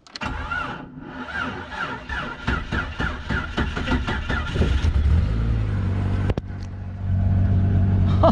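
A 1998 Jeep Cherokee XJ engine cranks with a rhythmic starter chug for about four seconds, then catches and settles into a steady, close idle.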